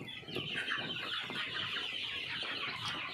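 A dense chorus of many broiler chickens on sand litter in a farm shed, clucking and chattering together, steady and fairly close, with no voices.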